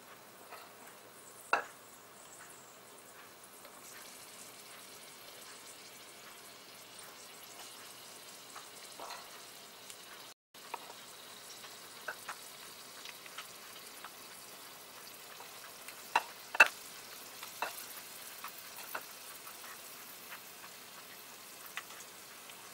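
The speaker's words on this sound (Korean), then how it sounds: "적절할 때는 약한 불에서 조금 센 중간불 정도 유지하시면서 튀겨주시면 되겠습니다" Battered shrimp deep-frying in hot oil over medium heat, a steady soft crackle and bubble with occasional sharper pops standing out, heard close and alone without voices.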